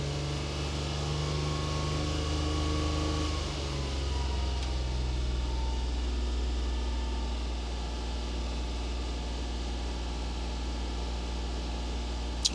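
A 1994 Suzuki Carry's small engine runs at raised revs, a steady droning hum that drops slightly in pitch partway through and holds evenly to the end, close by with no voices.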